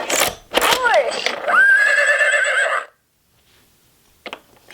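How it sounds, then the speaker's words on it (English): A Little People See 'n Say farm toy plays a horse whinny, a loud close recorded neigh with rising and falling pitched squeals lasting about two seconds, preceded by a brief toy voice and followed by near silence and a small click. "Horse."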